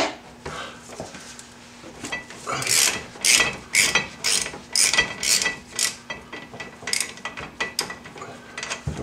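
A socket wrench ratchets on a brake bolt of a C4 Corvette during a C5 brake upgrade, giving close, loud bursts of rapid clicking with brief pauses between strokes and no talking.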